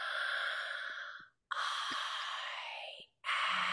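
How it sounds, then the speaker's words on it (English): Loud, heavy breathing during a guided breathing exercise: two long, forceful exhales close to the microphone, separated by brief silent pauses, with a third breath starting at the end. "I do get a little loud with breathing it, but it's a powerful tool."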